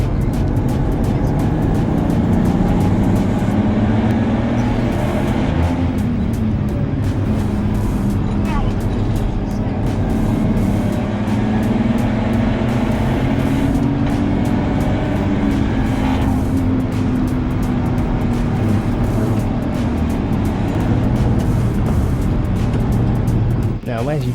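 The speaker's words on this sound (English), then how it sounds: "we are coming up to the last corner on the track and we are coming onto the home straight." BMW M135i driving fast on a race track, a continuous loud engine drone rising and falling with speed through corners, heard from inside the car with talk over it.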